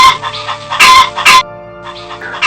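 A cartoon hen clucks in loud, short bursts over a steady tonal musical backdrop in a Bengali animated story.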